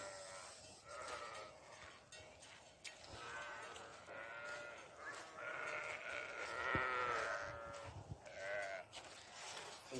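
Fat-tailed sheep on a farm in Saudi Arabia bleating repeatedly, overlapping calls from several animals that are fairly faint and carry over a quiet farmyard background.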